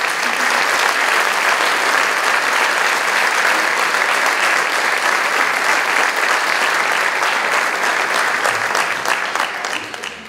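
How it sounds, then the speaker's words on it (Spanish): Sustained audience applause at a restoration and presentation ceremony for San Agustín de las Madres, a full room of steady, even clapping that continues throughout and fades slightly at the end. "Vamos a darle un aplauso"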